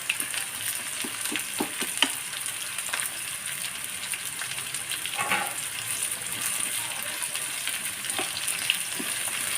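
Raw mango pieces for pickle cooking in hot oil, a steady close sizzle and bubbling hiss throughout with occasional scraping stir strokes and no voices.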